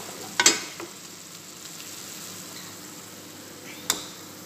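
Chicken cooking in a pan with a lot of water steadily boiling off, giving a soft continuous sizzle with two sharp clinks of a utensil against the pan.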